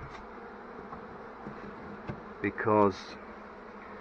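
Bees from a swarm taken out of a wall hum faintly and steadily inside a partly covered box, while a voice speaks briefly near the end.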